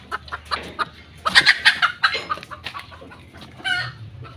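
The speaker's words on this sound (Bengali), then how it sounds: "এখন ডিম পাড়া হয়ে গেছে, মুরগিটা এখন বেরোবে" A black hen clucking just after laying an egg: a run of loud, close, excited squawking clucks in bursts, tapering to softer calls.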